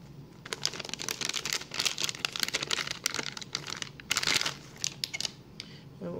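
Anti-static packaging is pulled off a TP-Link Archer PCI-E WiFi card, producing close, busy crinkling and rustling with quick irregular crackles throughout, fairly quiet and without talking.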